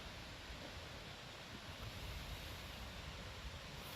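Rushing water from a creek swollen by last night's rain beside a road in Green Ridge State Forest, a steady broadband roar that holds constant throughout, close and fairly loud with no voices.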